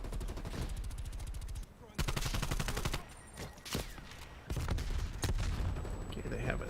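Rapid gunfire from a sniper in a shooter video game, bursts of sharp repeated shots crackling loudly in near-continuous volleys, with brief gaps and heavier thumps between them.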